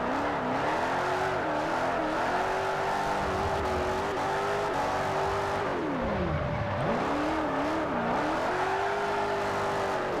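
Engine revving hard in Forza 4 as a car drifts through a long sweeping corner, the note rising and falling with a deep dip when the clutch is kicked, then climbing again, loud and continuous with no talk.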